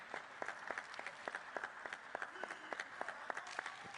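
Spectators clapping at a table tennis match, a steady run of crisp hand claps from a modest crowd, fairly distant and even in rhythm, with no voices over it.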